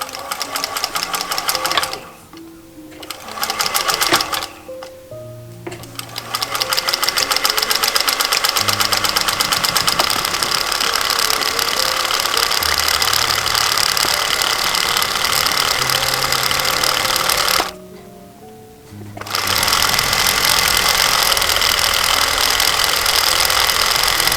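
A sewing machine stitches a half-inch seam on a fantasy cloak, a loud, fast mechanical whir in long runs with two short pauses between bursts, and faint talk in the gaps.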